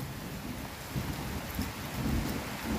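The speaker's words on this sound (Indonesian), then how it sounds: "di sini lagi hujan teman-teman. Hujan gerimis aja" Light drizzle falls across a chili garden plot, a soft continuous hiss of rain with faint low rumbles and no voices.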